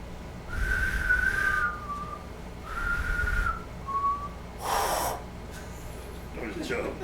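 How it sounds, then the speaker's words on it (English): A character learning to whistle in The Last of Us video game, producing a few shaky, breathy whistled notes in separate tries, with puffs of breath and a snort between attempts. "I'm trying to learn how to whistle"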